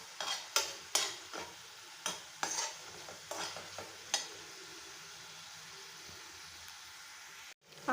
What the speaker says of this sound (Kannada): ಸ್ವಲ್ಪ ಸಾಂಬಾರು ಪೌಡರು, ಮನೆಯಲ್ಲೇ ಮಾಡಿದ ಸಾಂಬಾರು ಪೌಡರು ಹಾಕ್ಕೊಂಡು ಕಲಿಸ್ಕೊಳ್ಳಿ.